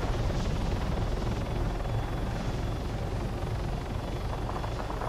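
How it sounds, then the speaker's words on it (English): A helicopter in the police video game Bad Boys: San Antero approaches from the east, its steady rotor thrum and engine roar filling the scene loudly and continuously with no talk. "There is a not released helicopter coming in from the east."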